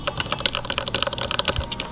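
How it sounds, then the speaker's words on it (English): Rapid typing on a custom mechanical gaming keyboard fitted with lubed 62-gram Zealios switches, a dense stream of close, crisp clacks and thocks with no talking. "It's this custom keyboard with Zelios, 62 grams, lube."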